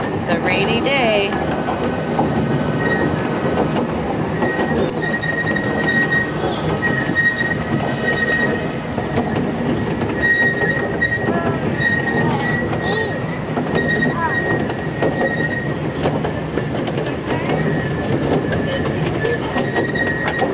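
A steam train rolls along rails in Berkeley on a rainy day, a steady close rumble with wheel squeal and faint clacking that runs throughout while people talk quietly over it.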